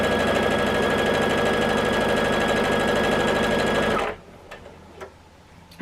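A sewing machine runs steadily, stitching a jelly roll fabric strip for a quilt block with a quarter-inch seam, a loud continuous whir for about four seconds before it stops abruptly, leaving a quiet room with faint clicks.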